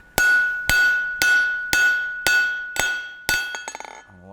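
Seven evenly spaced hammer blows ring out while a hot chisel is forged from hot steel, each strike a bright metallic clang with a sustained ringing tone, ending in a quick bouncing rattle of the hammer settling on the anvil.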